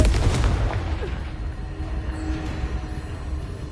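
A Confringo blasting spell in Hogwarts Legacy bursts with a heavy, booming explosion right at the start. It decays into a long, rumbling roar that stays loud throughout, with no talking.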